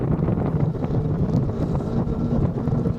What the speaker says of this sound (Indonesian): Ini anginnya kenceng